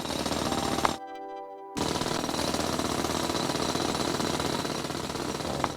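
The Drillbot in the mining game Chipmatic grinds into rock with a rapid, rattling jackhammer-like chatter. The chatter stops for under a second with a brief tonal blip, then resumes steadily and close.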